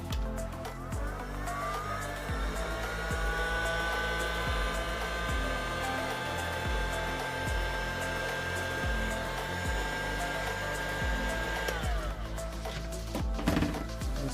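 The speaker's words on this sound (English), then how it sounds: "Lower heat gun." Heat gun blowing hot air, a steady close whooshing blower with a constant motor whine that holds for about twelve seconds, then cuts off, with some knocking and handling noises alongside.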